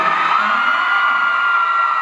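Fans scream during a press event at a Christmas presentation at Siam Paragon, a sustained high-pitched wall of shrieking that stays loud and unbroken throughout.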